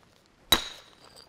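A hammer stone strikes a flint core in a single sharp, glassy crack with a brief ringing tail, close up in an otherwise quiet outdoor setting.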